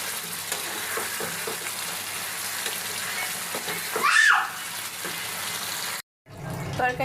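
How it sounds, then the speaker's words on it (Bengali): Chicken pieces going into a hot pan of cooked-down ginger spice paste, with a steady close sizzle and frying hiss throughout, a brief louder burst of stirring, and a short cut to silence near the end. "মশলাটা কষায় মাংসগুলো দিয়ে দিচ্ছি"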